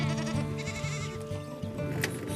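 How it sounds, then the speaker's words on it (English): Sheep bleating in a working farm flock in rural Australia, a sustained nasal bleat with layered overlapping calls close by, other animals adding noise, no talk. "That'd be a good show sheep, that one."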